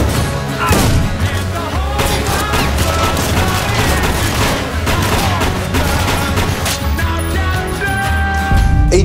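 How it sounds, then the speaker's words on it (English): Loud, dense gunfire rattles continuously in rapid bursts with heavy booms, overwhelming and close, in a TV drama scene set in a building's hall. "we got reports of gunfire in the North Hall."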